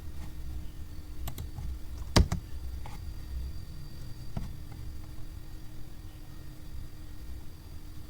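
A single sharp key press on a computer keyboard during network configuration, with a few lighter clicks of typing around it, close and fairly quiet over a steady low hum.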